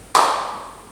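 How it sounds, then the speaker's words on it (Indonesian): A class of students in a vocational accounting lesson claps once in unison: a single sharp, bright clap that rings briefly and then fades, with no voices. "kalau saya bilang selamat pagi, kalian silakan tepuk tangan 1 kali"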